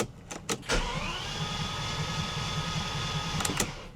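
A long-abandoned Bentley GT's starter cranks the engine steadily for about three seconds after a few sharp clicks. It turns over with a rhythmic, whirring churn but never catches.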